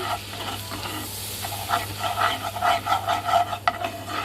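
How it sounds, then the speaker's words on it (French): A utensil stirs flour into melted butter in a pan for a cheese béchamel, making a soft, scraping, rhythmic swish over a faint sizzle and low background hum. "2 cuillères à soupe de farine. Voilà, que je vais mélanger avec le beurre"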